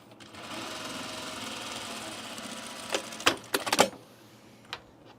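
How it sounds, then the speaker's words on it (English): A sewing machine stitches along the binding of an unlined Auburn blazer, running in a steady close whir for about three seconds before stopping, followed by a few sharp clicks and knocks. "All right, so we're going to sew this right here."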